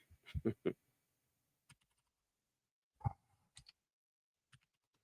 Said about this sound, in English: here we go with the ultra clicky keyboard